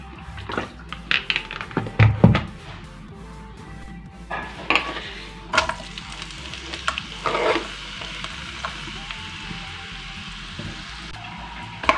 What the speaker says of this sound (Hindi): प्याज को मैं स्लो फ्लेम पर फ्राई कर रही हूँ 5 से 10 मिनट के लिए